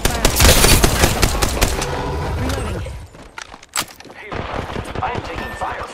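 Video game gunfire in a firefight: a dense, loud stream of rapid automatic shots that thins into scattered, more distant bursts and single cracks. Game voices speak over it.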